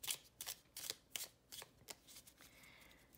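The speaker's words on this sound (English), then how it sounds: "Shuffling a little deck, I always shuffle like this" A small Pathfinder oracle card deck is shuffled overhand rather than riffled: close, crisp papery bursts repeating in a steady rhythm of about eight strokes, with no voices.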